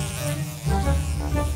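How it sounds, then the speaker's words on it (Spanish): Flies buzz around a pizza, a close, steady insect drone that swells in loudness partway through, with no talking. "¡Hay moscas por todos lados!"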